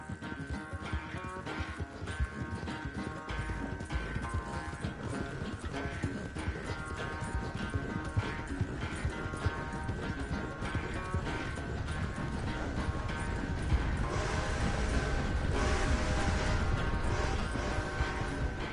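Rapid rhythmic hoofbeats of a galloping horse in the video game Red Dead Redemption 2, continuous and fairly loud, with a faint whinny over a steady background rumble.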